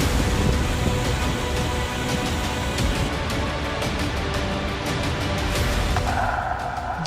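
Heavy rain pours steadily with low thundery rumbling during monsoon floods, a dense, loud, unbroken wash of noise with no voices.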